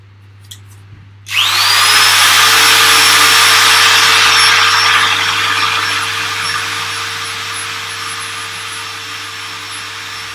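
A power sanding machine on a turned wooden box lid in a woodturning shop starts up abruptly after a quiet moment, then whirs loud and steady, slowly easing in pitch as it runs on.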